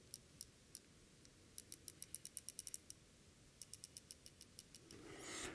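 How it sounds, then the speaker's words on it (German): Crisp, faint mechanical clicks from the aperture ring of a TTArtisan 50mm f/1.2 lens being turned, coming in quick irregular runs of detents, close and quiet, followed by a soft rustle of handling at the end. "ein richtig schönes Klicken, hört man, gerade wenn man die Blende öffnet."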